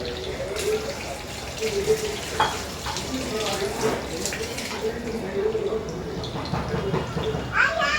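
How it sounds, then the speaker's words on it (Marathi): Bhaji fritters of potato, spinach and soya bean deep-frying in hot oil over a high flame, a steady broadband sizzle and bubbling with intermittent crackles throughout, fairly close, with a voice speaking over it. "आता या भज्यांना छान असं गोल्डन ब्राऊन होईपर्यंत आपण फ्राय करून घेऊया."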